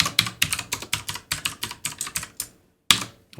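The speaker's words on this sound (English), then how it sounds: "and just type in a password." Quick, irregular keystrokes on a computer keyboard as a password is entered, about a dozen close, crisp clicks in a steady burst, then a short pause before a final pair of taps.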